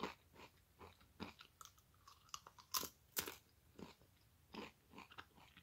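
Tostitos Scoops tortilla chips, 50% less fat, being bitten and chewed, a string of irregular close crunches with several sharp louder bites and quieter munching between them, no talking.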